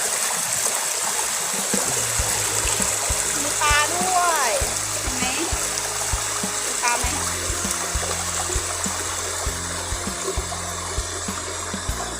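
The fifth tier of the Huai Yang waterfall, a steady rushing and splashing stream with constant broadband flow, with voices and faint music in the background.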